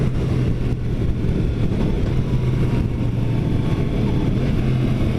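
Engine of a 2017 Yamaha FZ-10 motorcycle during clutchless power shifting, a loud, steady low drone with slight dips in pitch at the shifts and rushing wind over it, no talk.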